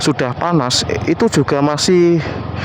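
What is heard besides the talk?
None of the usual background noises is heard.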